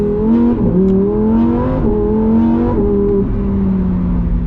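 A 2025 Lamborghini Huracan Tecnica's V10 engine, heard from inside, runs loud and close through a series of quick downshifts, each marked by a sharp rev blip before the tone settles lower, with no talking.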